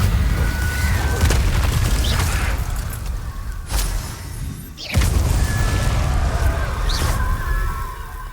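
Incendio fire spell cast in the Hogwarts Legacy-style video game, a loud whooshing boom burst with crackling fire texture amid continuous game ambience, with a second bright swoosh burst midway through.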